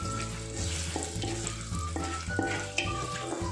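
Finely diced potatoes sautéing in a pan sizzle steadily up close, broken by a few soft knocks and scrapes from stirring.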